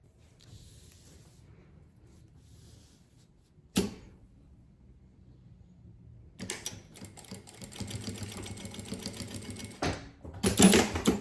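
A sewing machine runs a safety seam joining fabric right side to right side, starting after a quiet stretch with a sharp click and then whirring steadily and close for several seconds before a brief pause and a final louder burst.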